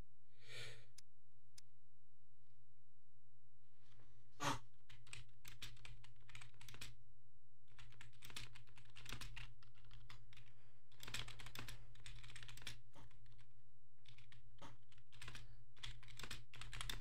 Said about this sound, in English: You probably can't even see what I'm typing in chat